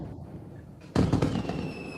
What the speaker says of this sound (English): And if you want fireworks, I'll have Lisa bring her soundboard.